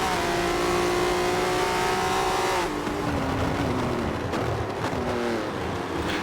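Volvo STCC race car engine at Laguna Seca in a racing video game, a loud sustained high rev that drops through a gear shift and then climbs again.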